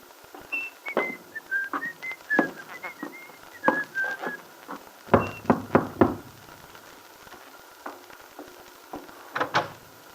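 Someone whistles a cheerful tune with short, bright notes, interrupted by several knocks and door or footstep thumps, close and clear against a quiet room.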